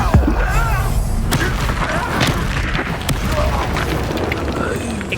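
Booming spell explosions from Bombarda and other combat magic in the Hogwarts Legacy video game, dense repeated blasts and crashes layered over continuous battle noise, with a voice shouting spell names throughout.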